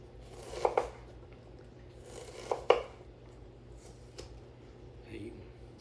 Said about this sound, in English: just fairly rough chop your onion